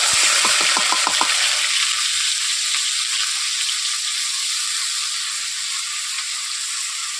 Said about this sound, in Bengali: পেঁয়াজ আদা রসুন টমেটো একসঙ্গে আমি দিয়ে দিচ্ছি।